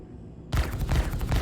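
Sustained, dense gunfire from shooting at enemies in the space game Star Citizen erupts abruptly after a quiet start and continues as a loud, continuous rattle of shots with no talking.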